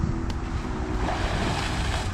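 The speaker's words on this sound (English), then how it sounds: "Look at those waves." Ocean waves surge and wash in a broad, steady roar near the shore along a bike route from Chicago to Wisconsin, with some wind buffeting the microphone.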